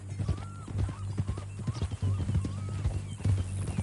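Steady clip-clop of horse hooves on a hard surface in Red Dead Redemption 2 keeps an even walking rhythm, with a horse's whinny rising briefly and voices speaking over it.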